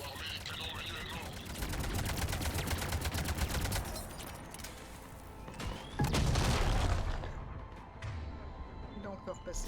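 Cannon and heavy gunfire in Mass Effect 3 during the Omega DLC, with dense bursts of rapid shots and booms over in-game noise, swelling loudest around the middle and end.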